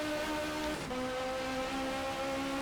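Toyota race car engine in the GTR2 racing game holding a steady sustained drone while climbing a hill, revs dipping briefly then settling into a slightly lower, continuous hum.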